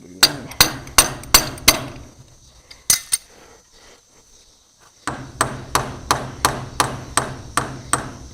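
Hammering while building a cattle pen: a steady series of sharp, ringing hammer blows, a few quick strikes, a pause with one lone hit, then a brisk regular run of loud, evenly spaced blows close by.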